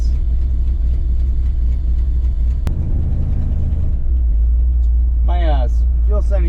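A car engine running slightly rich idles with a deep, steady low rumble throughout, broken by a sharp click midway, as a voice briefly comes in near the end.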